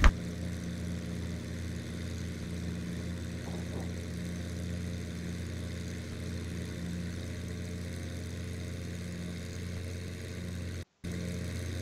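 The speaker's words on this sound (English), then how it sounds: "So we're just in a small aircraft." Steady drone of a small Cessna piston engine in Microsoft Flight Simulator, a constant low hum with even harmonics holding unchanged throughout, briefly cut by a short gap near the end.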